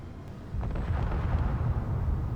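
A warhead detonates in the video game Space Engineers: a deep, muffled boom swells up after a half-second and rolls on as a steady low rumble.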